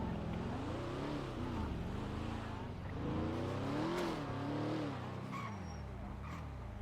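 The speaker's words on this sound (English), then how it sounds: "Do you hear the car rattling?" A video-game car drives along with a steady engine drone that rises and falls in pitch, carrying a light rattle over it and short sharp knocks near the end.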